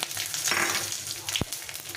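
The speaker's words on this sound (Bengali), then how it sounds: "কড়াইটা করেছি, শুকনো লঙ্কা, জিরে আর তেজপাতা এটা ফোড়নে দিয়ে দিলাম।" Dried red chili, cumin and bay leaf sizzle in hot mustard oil in a kadai, a close, steady crackle with a few sharper pops and stirring scrapes.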